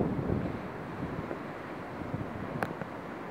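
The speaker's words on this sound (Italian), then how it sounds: "il vento sta girando ancora una volta da maestro," Mistral wind gusts along the Livorno coast in winter, a steady rushing roar buffeting the microphone with low rumbles, one sharp brief knock near the end, no voices.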